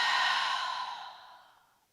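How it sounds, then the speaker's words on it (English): One gentle, breathy exhale through an open mouth during a yoga breathing exercise, heard up close and fading smoothly over about two seconds with no talk. "Open up your mouth, gently exhale."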